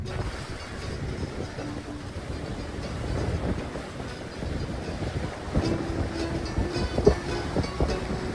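A catamaran sailing on San Francisco Bay in wind, with steady low wind rumble and water wash around the hull, continuous and moderately loud, with no talk.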